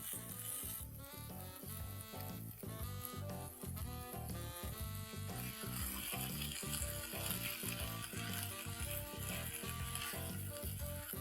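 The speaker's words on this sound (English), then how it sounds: "When you're toasting this rice in the pan at this stage, just be very gentle" Rice toasting in a pan with spices, tomato puree, sausages and taco seasoning, giving a continuous dense sizzle and crackle, steady and close with gentle stirring scrapes, no talk.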